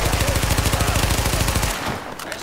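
Rapid automatic gunfire in the shooter game The Division, a loud close burst of evenly spaced shots for nearly two seconds before cutting off into quieter background noise.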